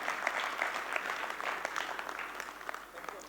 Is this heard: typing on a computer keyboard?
no